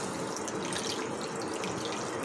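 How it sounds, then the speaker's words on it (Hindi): About a cup of water pours steadily into a cooking pot in a home kitchen, a dense continuous splashing rush at even loudness with no speech. "और आपने डालने के बाद आपने पानी डाल देना"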